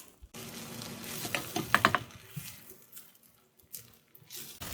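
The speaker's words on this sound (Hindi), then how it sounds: "मक्खन आहिस्ता आहिस्ता चावलों में मेल्ट हो रहा है।" Butter melting into Chinese-style fried rice in a hot pan, a steady close sizzle and crackle with a few sharper pops and stirring rustles partway through, with no talking.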